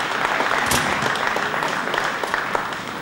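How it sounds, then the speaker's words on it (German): Audience applause at an outdoor-style metal festival celebration, a steady wash of many hands clapping that holds loud and even throughout, with no voices over it. "Einen Beifall für Ralf Siebenborn"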